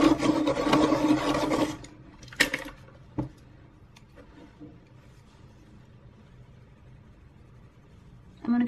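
A Prismacolor colored pencil is sharpened in a short, close grinding burst lasting under two seconds, followed by near-quiet with a few light taps and a brief scrape at the end.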